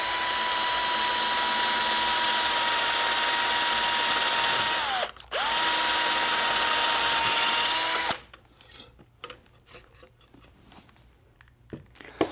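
A surgical power drill bores through both cortices of bone to seat proximal interlocking screws, a loud steady whine held for about eight seconds with one brief dip, then stopping, leaving faint clicks and handling noise.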